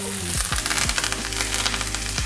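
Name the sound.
butter sizzling in hot pan with steak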